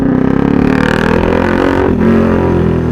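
A KTM RC motorcycle with a full system exhaust revs close and very loud, a deep throbbing growl that dips briefly and climbs again over a few seconds.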